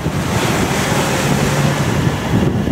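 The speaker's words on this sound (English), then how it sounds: "I just wanted to show you the sea state right now and the wind state." Rough open-ocean sea on a sailing passage between Curacao and Colombia: loud, continuous wash of breaking waves and roaring wind buffeting the microphone, with no pauses.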